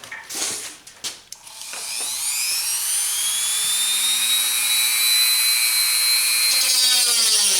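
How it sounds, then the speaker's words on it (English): Dremel rotary tool spinning at reduced speed as it cuts into plastic, part of mock-up work on a 1977 Camaro Z28 firewall; a steady, close, high-pitched whine that settles in after a few short bursts and holds to the end. "Turn the speed down on the Dremel because I don't want to melt the plastic."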